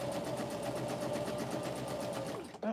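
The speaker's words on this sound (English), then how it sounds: "we're going to sew a 1/4 inch" A sewing machine runs a 1/4 inch seam on a pocket tissue pack cover, a close, steady rapid stitching hum that lasts nearly three seconds before stopping with a small clunk.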